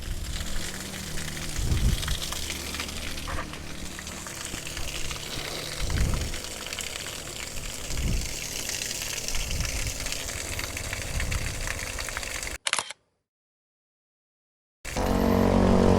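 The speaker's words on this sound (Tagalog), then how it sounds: "Yan yung mini waterfalls." Small waterfalls rush and gush in a steady, loud flow with occasional deeper thuds, briefly cutting to silence before the water resumes.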